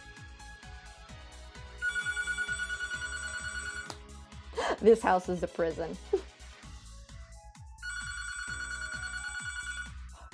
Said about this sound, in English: Can someone please pick up the phone?